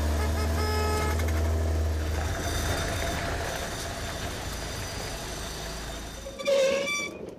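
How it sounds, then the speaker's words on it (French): An old grocery truck honking its horn in a village: a sustained, loud horn blast at the start over engine rumble, fading into vehicle noise, with a sharp clatter near the end. "Ce que je fais des fois quand j'arrive, c'est que je klaxonne."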